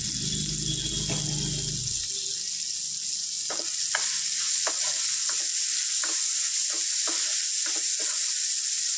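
Onion and green chilli frying in a pan make a loud, continuous hiss, with a low rumble at first and then a string of sharp utensil taps and scrapes as the mixture is stirred.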